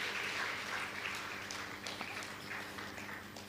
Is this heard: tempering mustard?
no